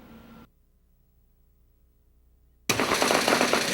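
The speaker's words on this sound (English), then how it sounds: "This is what gunfire sounds like in the middle of the night" Machine gun fire at night in a desert army camp in Kuwait: after a short murmur and a quiet lull, a loud dense burst of rapid gunfire erupts and continues to the end.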